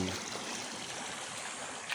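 Water rushes steadily along an irrigation channel on a morning walk, a close, even hiss and churn with no break, fairly quiet.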